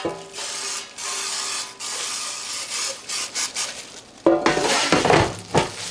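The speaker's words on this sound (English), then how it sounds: "spray my extra light olive oil into the baskets" Repeated bursts of hissing spray of extra light olive oil into air fryer baskets, some short and some longer, close by, with scraping and rustling handling noise between them.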